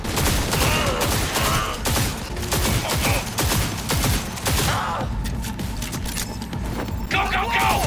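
Rapid bursts of gunfire from the futuristic shooter video game Cyberpunk 2077, dense and loud, with a player talking over the shots and a brief quieter stretch near the end.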